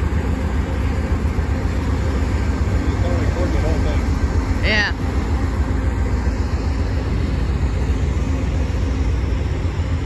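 A slow Norfolk Southern freight train hauling a long string of boxcars rolls past, a steady low rumble that fills the whole stretch with a brief squeal midway, while a person says a word over it.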